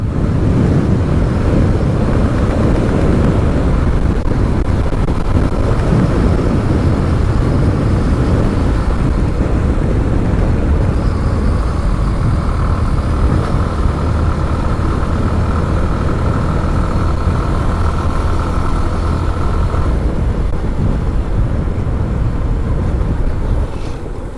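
A vehicle engine pulls steadily at speed in fifth gear on the Rajasthali–Farua–Domdomia mountain border road, a loud continuous drone with wind rush and a faint rising tone partway through.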